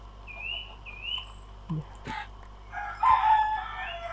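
A chicken in Minecraft gives a few short, bright clucks and calls against a quiet background, with a voice briefly speaking nearby.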